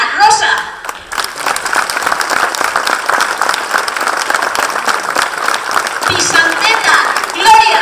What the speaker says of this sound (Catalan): com se mereixen un fort aplaudiment